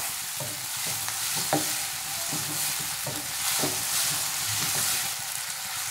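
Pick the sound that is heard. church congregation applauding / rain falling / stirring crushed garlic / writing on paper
stirring crushed garlic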